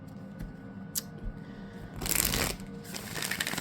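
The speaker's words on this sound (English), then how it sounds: "So I'm just gonna shuffle." A tarot and oracle card deck is shuffled close by, with soft papery riffles and taps followed by a louder burst of rapid card flutter.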